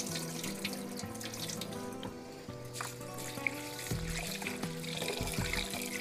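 Rice is washed by hand in a bowl under a running kitchen tap, with steady flowing water, swishing and light splashes close by, no voices.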